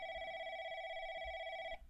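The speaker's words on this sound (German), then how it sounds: "Hauptsache, dass das Telefon klingelt." An electronic telephone ring in a video game sounds as one sustained, steady tone, then cuts off abruptly near the end.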